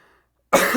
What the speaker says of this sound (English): you might hear me cough every once in a while